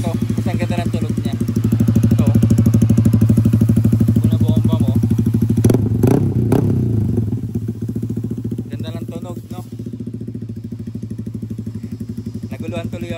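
A motorcycle fitted with a Replica Pro power pipe exhaust idles up close with a throbbing, pulsing beat, rises briefly in a quick rev midway, then settles back to a quieter, steady idle.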